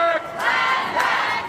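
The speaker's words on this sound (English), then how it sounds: "with crowds filling Auckland's streets" Crowd of climate protesters marching through Auckland streets, a dense mass of voices rising in shouts and chants, close and loud, swelling twice across the short stretch.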